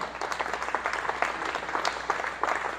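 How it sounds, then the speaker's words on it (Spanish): A church congregation at a Spanish-language service claps together for the Lord: quick, steady applause, fairly faint and slightly distant, continuing evenly for a few seconds. "Denle un aplauso al Señor, amén."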